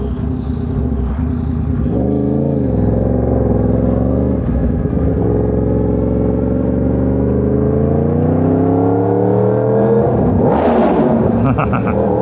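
A Yamaha R1 motorcycle accelerates through traffic, its engine climbing in pitch through the gears as a loud, close rising whine with a short lift-off midway and a fresh surge near the end.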